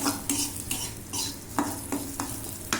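Bhel puri mixture is sautéed in ghee in a pan: rhythmic spoon strokes scrape roughly every half second over a continuous close frying sizzle, with no voices.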